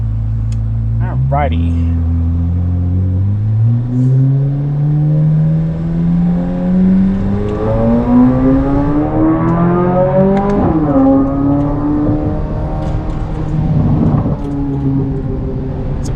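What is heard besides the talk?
Corvette C8 Z06 with Soler 91mm throttle body driving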